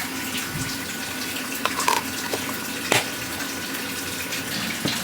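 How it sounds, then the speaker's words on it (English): A kitchen tap runs continuously at close range, a steady hissing splash of water with a few clinks and knocks over it and no talk. "Water's running."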